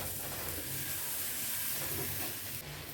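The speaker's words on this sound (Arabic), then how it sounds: "بس احنا بنقلي كده الخضار طبعا مع البصل" Vegetables with onion, garlic and hot chilli fry in a pan with a soft, even sizzle that stays fairly faint and steady throughout.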